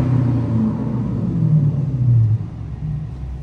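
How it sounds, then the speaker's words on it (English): A Dodge Challenger R/T with the 5.7-liter engine, set to track mode, gives a few quick revs over a deep idle rumble, heard close and alone. "Get y'all some quick little revs."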